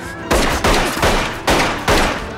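Gunfire from security guards shooting a man in the film eXistenZ: four loud close bursts of rapid shots at roughly half-second spacing, each decaying briefly, with no speech.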